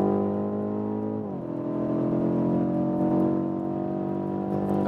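A BMW M850i coupé accelerates hard on a racetrack, its engine a steady rising drone heard from inside the cabin, dipping briefly at a gear change before climbing again, with no talk.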